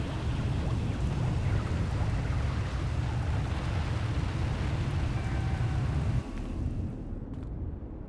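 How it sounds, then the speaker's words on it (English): A video game storm brings steady heavy rain with a deep low rumble of thunder that holds for several seconds and then eases and thins out, with no voices. "Looks like the storm's not letting up anytime soon."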